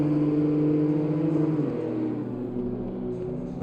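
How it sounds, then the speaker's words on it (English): A touring car engine in the ACC racing game, a loud, buzzing drone at full throttle that eases into a lower, rougher hum partway through, with no talking. "So we hear the engine of Lipolapio going through there."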